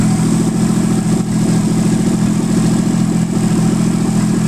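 An ultralight trike's engine running steady and smooth, a loud, close, even hum with a constant low drone and no pauses, no talk over it.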